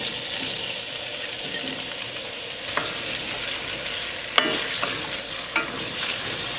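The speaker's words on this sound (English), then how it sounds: "Once the oil heat up, we're going to add the potatoes." Potatoes shallow frying in hot olive oil in a fry pan, giving a steady close sizzle with a few sharp crackles and spits scattered through it.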